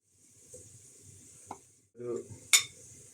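Onions with salt being stirred in a cooking pot, with a faint sizzle, a soft scrape and a few light clinks of a utensil against the pot.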